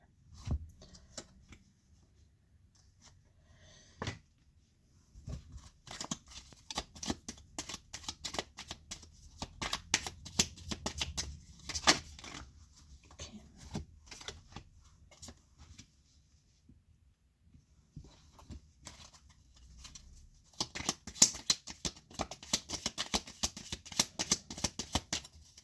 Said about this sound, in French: Je vais sortir plusieurs cartes et puis j'explique après.